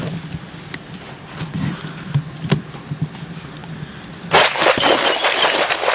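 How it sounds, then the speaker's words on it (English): Real glass shatters during a wrestling match, a sudden bright crash and spray of tinkling shards that follows a stretch of dull thuds and crowd rumble. "That's real glass, ladies and gentlemen."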